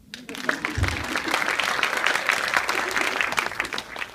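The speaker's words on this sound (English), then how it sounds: "Feel free to applaud." Audience applause at a chamber of commerce meeting, a steady dense clapping from a room full of people that starts quickly and holds evenly without any voices on top.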